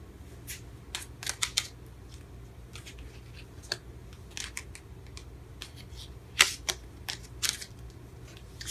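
Tarot cards shuffled by hand, crisp papery riffles and snaps coming in irregular bursts over a low steady background hum, fairly close and moderately quiet.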